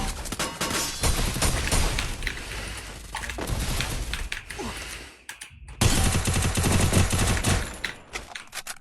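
Rapid bursts of automatic gunfire from a P90 rifle in the Free Fire video game rattle loudly and almost continuously, cutting out briefly before resuming at full intensity.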